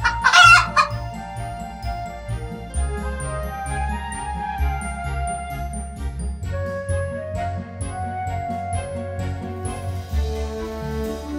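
A hen clucks amid farmyard fowl sounds set against cheerful children's music with tinkling tones, the bird calls clear and fairly loud over the steady accompaniment.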